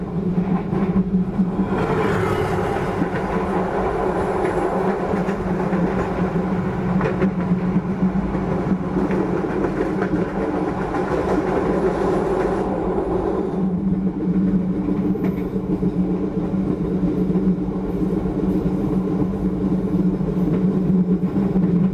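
The Jayakarta Premium passenger train rolls steadily over the rails with a continuous low rumble and broadband wheel noise, swelling slightly midway, heard from inside without voices.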